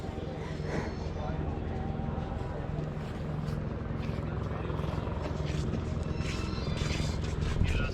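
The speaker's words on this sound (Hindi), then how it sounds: "वही हेलीकॉप्टर सेवा शुरू हो गई है।" A helicopter's rhythmic rotor thumping and engine drone on the Kedarnath pilgrimage helicopter service, steady and fairly close, with faint voices underneath.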